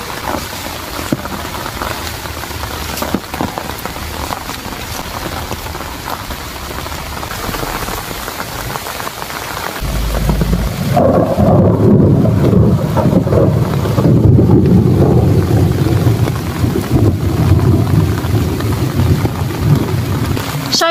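Heavy night rain pours down over a vegetable plot during a thunderstorm, a dense steady hiss that swells into a louder, rumbling wash partway through, with wind buffeting the microphone.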